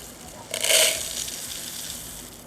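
Wheat berries poured back and forth between containers in front of a running fan, making a granular rushing hiss that swells after half a second, peaks briefly, then trails off under a steady fan drone.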